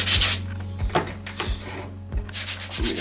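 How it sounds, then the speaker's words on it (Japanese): A hand file rasping along the edge of a wooden door in a used house during a DIY fix, several firm back-and-forth strokes in a steady rhythm, close and fairly loud, with no talking. "このヤスリは無理かな。"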